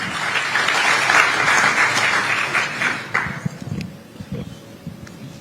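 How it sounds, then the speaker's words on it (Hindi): A studio audience at a televised interview claps strongly for about three seconds, then the applause thins out and dies away into a few scattered claps and quieter room sound. "जोरदार तालियों से स्वागत कीजिए के कविता का।"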